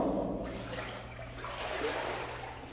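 Shallow water inside the Thottappura cave, a faint, steady trickling and lapping underfoot with a soft splash near the start, low and continuous throughout.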